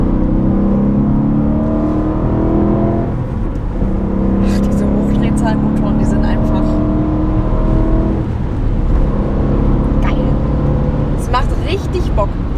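Manual 3 Series coupé with a high-revving 4-litre V8, the engine rising in pitch as it revs in repeated surges, fairly loud and close, with people talking over it.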